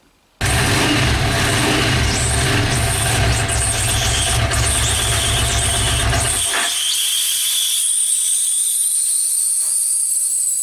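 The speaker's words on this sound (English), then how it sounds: "the bike starting and responding really nicely after being apart for so long" A Yamaha XV500 cafe racer motorcycle engine fires up loud and close after a long rebuild, running roughly for about six seconds with a strong low rumble, then cutting out and leaving a fading hiss.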